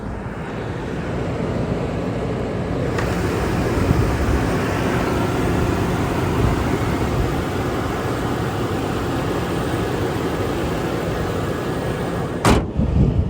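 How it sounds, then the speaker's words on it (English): A 2006 Land Rover LR3 sits with its hood open while the engine runs, giving a steady, even hum close by that continues unbroken with no voices over it. "Engine runs well like it normally does."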